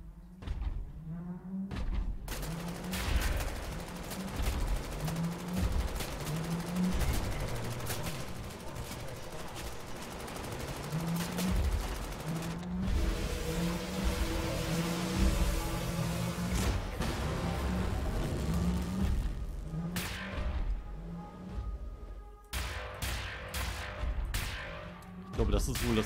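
Repeated weapon fire in the first-person shooter Wolfenstein: The New Order, with loud, rhythmic bursts of shots and impacts running almost continuously, plus a few harsh cracks near the end.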